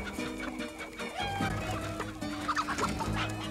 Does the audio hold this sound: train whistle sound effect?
no